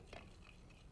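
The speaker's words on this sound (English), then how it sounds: "Stir, stir, stir." A vegan party dip being stirred in a bowl with a utensil, sweetened with agave and mixed with melted butter; soft, faint scraping and swishing strokes close by, quiet and continuous.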